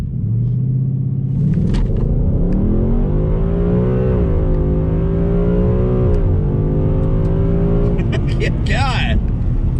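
A 2020 Ford Mustang with a Coyote V8, 10R80 automatic and E85 fuel accelerates hard, its loud, close engine note climbing steadily through the rev range, then shifting and rising again.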